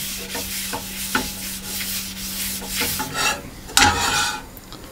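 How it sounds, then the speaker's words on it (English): Pan greased between pancakes, heard as a close, steady rubbing and scraping across the metal surface with a few soft taps and a sharper knock near the end, no voices. "I grease the pan again."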